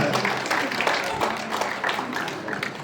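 Applause from a school assembly honouring a Grade 5 vice captain at a captains' ceremony, steady dense clapping from a crowd held at an even level throughout.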